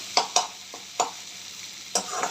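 A spatula scrapes and turns thinly sliced potatoes in a pan, several sharp separate strokes against a soft sizzle, close up with no voices.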